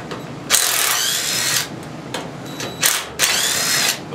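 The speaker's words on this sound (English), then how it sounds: "Little baby impact gun." A small half-inch impact gun bursts in short loud rattles, three main bursts with brief pauses, while removing bolts that hold the tank on a small roadside engine.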